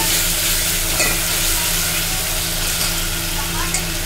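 Chopped mint and coriander frying in chicken curry masala, a loud, dense, continuous sizzle with a steady hum beneath and occasional faint stirring taps, up close.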